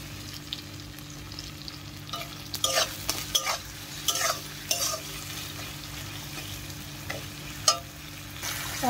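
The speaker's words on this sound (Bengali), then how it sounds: "মশলাটা দিয়ে ভালো করে কষিয়ে নেব" Tomatoes frying with a ground spice paste in oil in a pan, a soft steady sizzle broken by a few scraping stirs of a spatula, close but fairly quiet.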